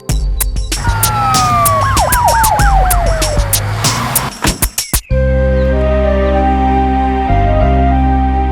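Wailing ambulance siren in a children's cartoon, loud and sweeping over busy noise for several seconds, then cutting to a steady sustained tone.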